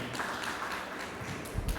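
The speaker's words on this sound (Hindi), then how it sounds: "जोरदार तालियां बजाएंगे।" An audience at a birthday and Raksha Bandhan celebration claps briefly, a soft, dense spatter of applause at moderate distance with a few louder claps near the end.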